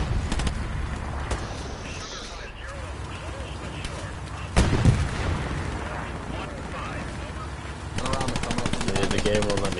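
Gunfire in the World War II shooter game Hell Let Loose, with loud, sustained machine-gun bursts and artillery-like booms, a sharp blast near the middle, and a speaker talking over the battle noise.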